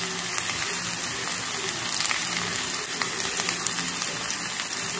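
Green chillies and garlic fry in hot oil for bread pakoda, giving a loud, close, steady sizzle with crackling pops throughout.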